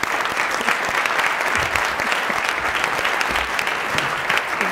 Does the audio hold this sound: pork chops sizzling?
no